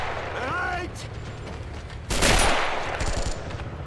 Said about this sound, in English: Get our machine gun fire.